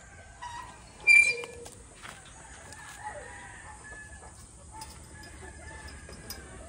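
Pure-breed white Kelso chickens in a breeding pen, heard as scattered soft clucks and calls over a steady background hum, with one louder call standing out early on.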